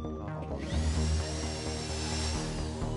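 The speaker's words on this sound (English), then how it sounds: "I'm so bad at this with the drill thing" A power drill from the GTA Online heist game whirs steadily at a high pitch, continuous and fairly loud over low game ambience, with no voices.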